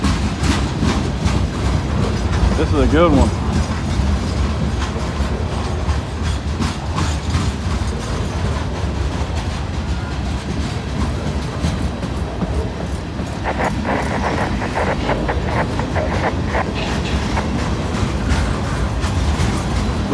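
A long freight train with distributed power units rolls past close by on the tracks, a loud continuous rumble with rhythmic clickety-clack of wheels over rail joints and a brief squeal; someone speaks briefly.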